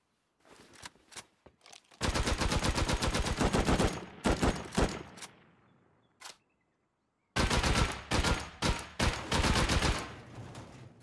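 Shotgun blasts in the survival game Rust during a base raid, firing in rapid bursts with short pauses between volleys, loud and close, with no talking over them.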